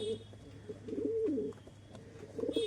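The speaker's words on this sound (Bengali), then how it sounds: "একদম এক পেয়ার পায়রা, খুবই সুন্দর পেয়ার একটা" A pair of fancy pigeons coo nearby in repeated soft, throaty rolling phrases, with low steady background hum between calls.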